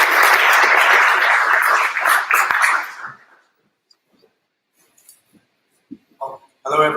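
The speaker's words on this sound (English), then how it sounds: "Round of applause for Andrus." Audience applause fills a politics summit hall, loud and dense for about three seconds before fading out into near silence, broken only by a few faint clinks and bumps near the end.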